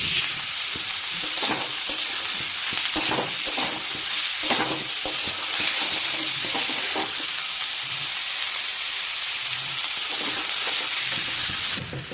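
Onions frying hard over a high gas flame for potato bharta, a steady loud sizzle with scattered crackles and stirring scrapes throughout, no voices.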